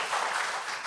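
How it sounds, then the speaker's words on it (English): Brief burst of audience applause at a live talk, soft and diffuse, a continuous wash of clapping with no individual claps standing out. "let's give them a big round of applause"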